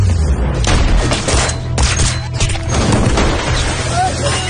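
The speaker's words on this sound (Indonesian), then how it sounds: "terjadi baku tembak" Loud bursts of gunfire and booming impacts from a gangster movie shootout, dense and chaotic over a low rumbling score, with voices mixed in.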